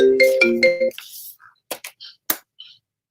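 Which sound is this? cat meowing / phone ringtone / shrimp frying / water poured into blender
phone ringtone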